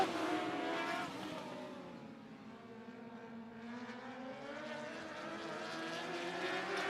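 Dwarf race cars roar around the Sunset Speedway Park track during a B main heat, engines droning loudly and continuously with pitch rising and falling as the pack circles.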